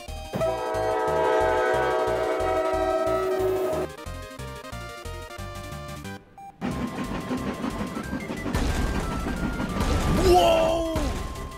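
A train in a Roblox video game blares a loud sustained horn chord, then drives into a parked vehicle with a clattering crash, followed by jumbled noisy game effects and rising squeals.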